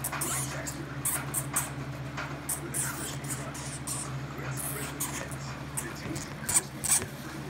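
Dwarf hamsters scuffle in a cage, with rapid scratchy rustling and faint high squeaks in short bursts over a steady low hum, ending in a slightly louder flurry.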